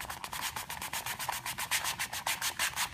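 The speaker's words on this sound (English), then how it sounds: "you start hearing the difference of the cutter going on the tortilla to the cutter onto the board" A cookie cutter is pressed and rubbed through a tortilla on a board, making a fast, rhythmic scraping rasp that repeats in quick even strokes, close and fairly soft.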